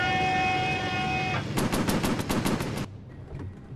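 Rapid bursts of Spitfire machine-gun fire in a WWII virtual-reality flight game rattle out in a quick regular string after a steady engine drone, then give way to a rumbling hum.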